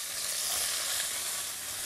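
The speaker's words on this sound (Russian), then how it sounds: "Теперь кидаем лук, сверху кладем сельдерей." Chopped onion and celery sizzling steadily in a hot ceramic pot, a continuous close, even frying hiss with no talk.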